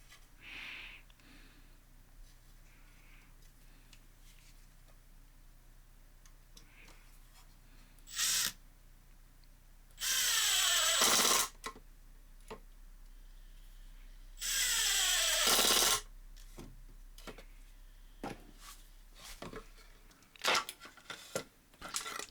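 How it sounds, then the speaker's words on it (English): A power drill drives screws into a wooden edge joint held in a Kreg face clamp, with a short whir, then two longer bursts of buzzing motor and screw grind, separated by quiet handling noises. "Pop in the screws and then tighten them up."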